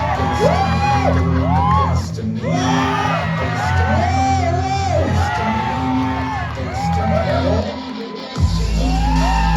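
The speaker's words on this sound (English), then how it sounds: "Let's give a big round of applause for Mr. Rongmei." A crowd whoops, yells and cheers loudly and continuously for a contestant at a bodybuilding show at a freshers' meet, rising and falling shouts over a thick bed of applause, ending in a sudden bang.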